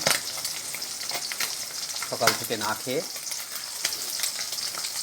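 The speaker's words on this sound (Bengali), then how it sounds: "এই যে এখন পুঁটি মাছ ভাজছি" Fresh puti fish fry in hot oil in a close, steady, crackling sizzle that keeps going while someone speaks briefly over it.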